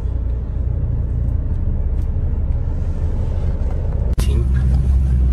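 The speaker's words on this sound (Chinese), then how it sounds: "看看福特皮卡啊" A Ford pickup truck rolls down a steep hill road with the brake held, its cabin filled with a steady loud low rumble, a brief dropout near the end, and a voice talking inside.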